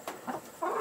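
Backyard laying hens cluck near a chicken coop, giving three short, moderately close clucks spaced evenly across a quiet moment.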